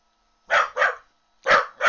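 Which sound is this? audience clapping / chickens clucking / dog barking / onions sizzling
dog barking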